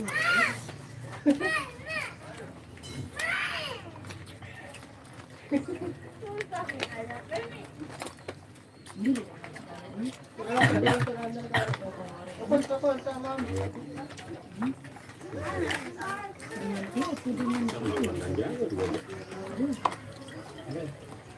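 Soft cooing of prized doves, in a dove singing contest setting, mixed with chatter and children's voices nearby, with scattered clicks and rustling throughout.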